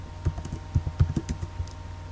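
Keys on a computer keyboard clack in an uneven run of close, distinct taps while someone types a demo paragraph, about a dozen strokes with short pauses, under a faint steady hum.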